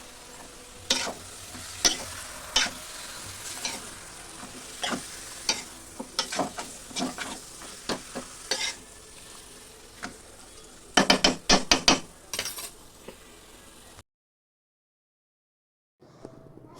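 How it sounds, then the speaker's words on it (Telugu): Ginger-garlic paste masala being stirred and fried in a pan: repeated scraping strokes of the spoon over a steady sizzle, with a quick flurry of stirring near the end before the sound cuts off. "ఇప్పుడు ఈ విధంగా మిక్స్ చేసుకుందాము"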